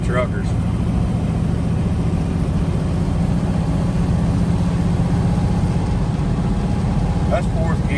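A 1968 Camaro engine drones steadily in fourth gear while driving, a continuous close low rumble with road noise that holds even throughout.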